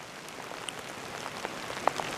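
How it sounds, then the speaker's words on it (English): Heavy rain falling on leaves and surfaces in a forest, a soft continuous hiss scattered with sharper individual drips and taps. "We're in the forest because it's raining hard"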